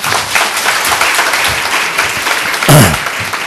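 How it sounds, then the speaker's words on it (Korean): A congregation at a Sunday church service applauds. The clapping is loud, close and continuous, and a sharper burst swells near the end. "여러분 박수 한번"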